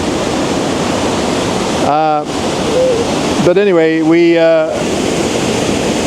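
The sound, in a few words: waterfall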